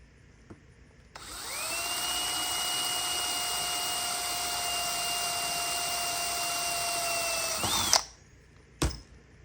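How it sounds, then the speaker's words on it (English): Power drill boring a hole in a door panel for an S10, a steady high whine held for several seconds, then a brief pitch change as it breaks through and stops, followed by a sharp click. "Now, all we have to do is drill the holes."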